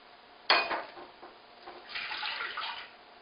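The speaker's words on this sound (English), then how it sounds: "we're going to get 2 cups of black coffee" Black coffee poured into a measuring cup in a kitchen, a soft splash starting abruptly, then a gentle trickling pour that swells and fades, alone without talk.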